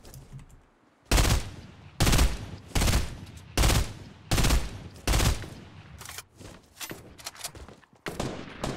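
Gunfire from a Fortnite battle royale match comes in loud, sharp bursts, roughly one per second, with a few quicker shots near the end, close and punchy over a faint background with no voices.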